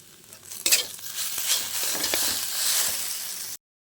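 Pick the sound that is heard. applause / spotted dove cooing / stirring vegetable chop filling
stirring vegetable chop filling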